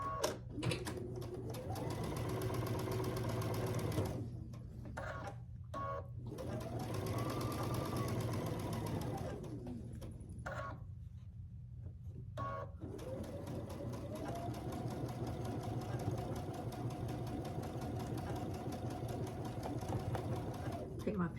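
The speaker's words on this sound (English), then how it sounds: "I'm going to stitch down this long side." A sewing machine runs in long steady bursts as it stitches the long side of a quilt block, pausing briefly between runs with a continuous mechanical whir up close.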